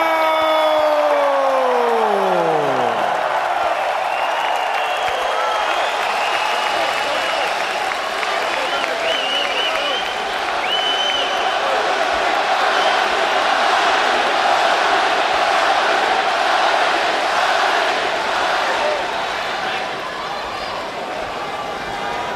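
A packed boxing arena crowd roars and cheers for Manny Pacquiao at his ring introduction before a WBO international title fight in Macau, a loud sustained wall of crowd noise with applause, following a descending announcer's tail at the start.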